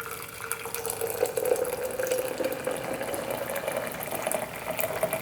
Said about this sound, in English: I'm just gonna pour the water over top.